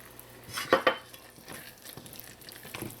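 Cumin being added to a pot of curry chatigne made from katahar, with a couple of close clattering utensil knocks and a scrape against the pan, followed by softer stirring and light sizzling.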